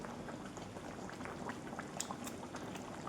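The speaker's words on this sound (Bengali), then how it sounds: "এই যে এবার ফুটছে।" Fish curry bubbling steadily in a pot, a dense continuous simmer with small pops and gurgles throughout, close and fairly quiet, with no talking.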